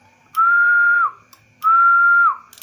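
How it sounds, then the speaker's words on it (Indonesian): Whistling into the microphone of an HF radio driving an N702 40-metre band 200 W linear amplifier during a power test: two long, steady whistled tones of equal pitch, each under a second, separated by a short pause. "Kalau kita siul maksimum"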